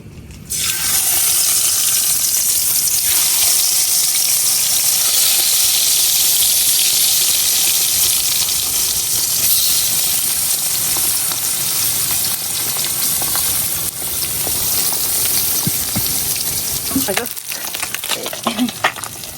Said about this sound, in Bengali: তেল গরম হয়ে গেছে এখন আমি মাছগুলা বাজিয়ে নিলাম